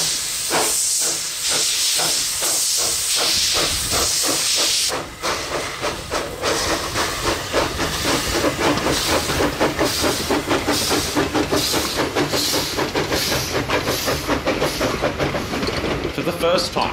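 Two steam locomotives double-head on a heritage railway, D 140 and F 13 at Ferrymead, with a loud, steady hiss of steam giving way to fast rhythmic exhaust chuffs and clattering wheels, close by and continuous, while a voice narrates over it.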